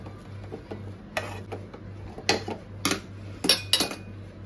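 Spoon scraping and clinking against a metal pot while dough is mixed with the gas turned off, several sharp taps and scrapes in irregular bursts over a low steady hum.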